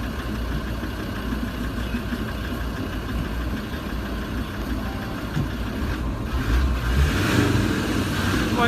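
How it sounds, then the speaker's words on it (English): A car engine idles with a steady mid-pitched rumble up close, then is revved louder for a few seconds near the end. "I can rev the engine whenever I want, me."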